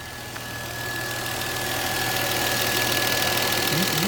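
A Volvo V70 with a coolant leak idles steadily nearby, giving a low, even engine hum with a faint whine over it. The level stays constant and no one speaks.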